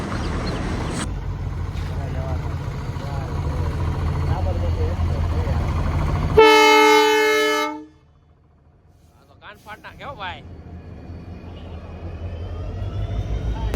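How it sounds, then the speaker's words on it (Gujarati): A train sounds a loud, sustained horn blast while passing through Vietnam's Train Street market, with a rumbling crowd and traffic background and people talking nearby before and after. "જો અહીંથી ટ્રેન નીકળે અને બાજુમાં માર્કેટ હાલે હો"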